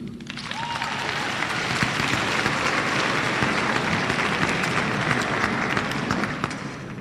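Sustained applause from a large audience at the closing ceremony of the All Africa University Games, a dense, even roar of clapping that starts abruptly and holds steady for several seconds.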